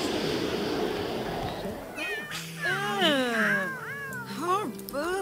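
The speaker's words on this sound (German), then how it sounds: "Achso, bei den Katzen schreien." Cartoonish cats meow and caterwaul repeatedly in The Sims 3 life-simulation game, with rising and falling tonal cries over steady background game noise and a voice talking at the start.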